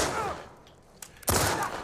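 Gunfire from Dinah in The Last of Us Part II: a loud burst of shots at the start, a quiet lull with a faint crack, then another sharp, powerful blast near the end.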